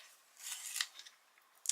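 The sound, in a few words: sharpening a blunt pencil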